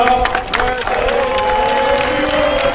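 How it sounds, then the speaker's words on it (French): After a 3-0 football cup win, a small group claps and cheers for the players at close range, with tonal sounds and voices mixed into the steady applause. "Allez, on applaudit les gars."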